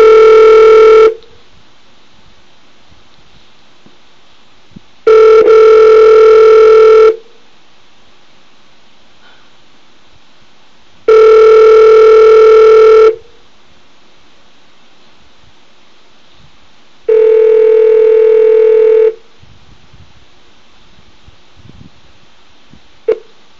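A Google Voice call rings out with four loud, identical electronic ring tones, each about two seconds long and spaced several seconds apart, separated by near silence.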